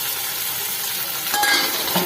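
Onions frying in a pan hiss in a continuous sizzle, and the sound swells louder as tomatoes are tipped in toward the end, with a faint utensil clink.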